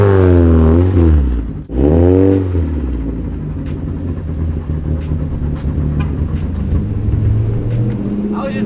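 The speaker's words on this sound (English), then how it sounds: "I was just revving" A Mazda NA Miata revs hard in a parking lot, the engine note sweeping up and down twice in quick succession before settling into a rough, rumbling idle, close and loud.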